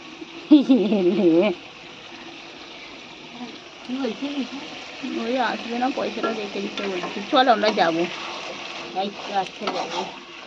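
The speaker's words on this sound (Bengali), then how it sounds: "মা ঢেঁড়স আর আলুর তরকারিটা চাপিয়ে দিয়েছে তো ঢেঁড়সগুলো ভেজে আলুটাও দিয়ে দিয়েছে" Okra and potato curry cooks in a pan with a soft, steady sizzle running underneath, while voices talk over it in intermittent bursts.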